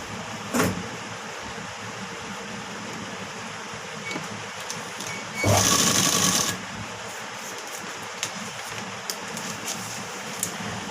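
Sewing machine stitching the front part of a blouse, one brief whirring run of about a second amid quiet room noise and small handling sounds.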